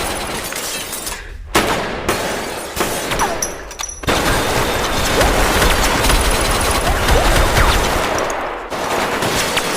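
Sustained gunfire rattles through a film shootout, dense bursts and rapid shots running almost without pause, loud and close, with brief gaps between volleys.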